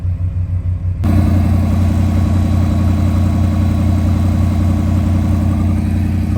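Farm engine running and smoking as it burns off oil on its cylinder walls: a low, throbbing rumble that jumps to a loud, steady running roar after a second and holds there.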